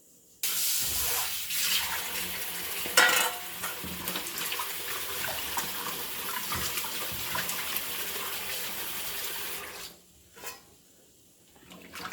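Tap water runs steadily while fish pieces, rinsed with salt and turmeric, are washed in a kitchen; a broad continuous splashing flow that stops near the end.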